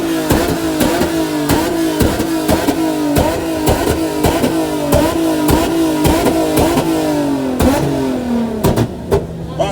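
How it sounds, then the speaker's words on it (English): A turbocharged car with a loud aftermarket exhaust at a car meet, revving hard in rapid repeated bursts with sharp pops and crackles between pulls, close and very loud. "What the hell was that? I think that was a BMW."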